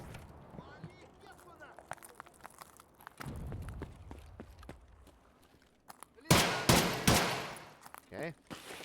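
Single-fire gunshots in Escape from Tarkov, in PVE mode: a few loud, sharp shots in quick succession near the end, after quieter shuffling footsteps and gear movement.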